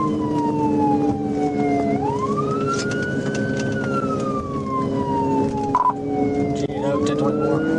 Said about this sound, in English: With lights and siren activated, Swafford attempted to stop, but the suspect only looked back and sped off.